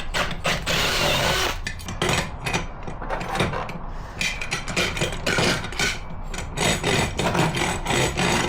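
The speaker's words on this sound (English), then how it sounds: "I think we need to drill this hole out a little bit at the back." Power drill enlarging a hole in the back of a pulley during a camper van conversion, loud grinding and whirring in repeated bursts with short pauses between, close up and without talk.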